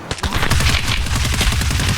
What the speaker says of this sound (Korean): 총소리 한 번 더 내주면 좋을 것 같은데